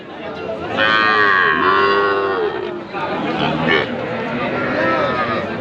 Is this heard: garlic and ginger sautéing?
no